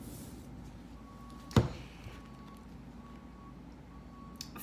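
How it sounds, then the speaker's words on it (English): A garbage truck emptying trash outside gives faint, steady reversing beeps at regular intervals, distant and muffled, with a sudden loud thump partway through and low background rumble. "they're emptying the trash right now. If you can hear that, I'm sure you can."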